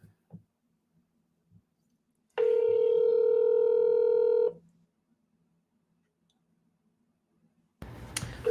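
A telephone tone sounds while a phone number is being called: one steady, loud tone lasting about two seconds in an otherwise quiet room, ending in a brief burst of noise.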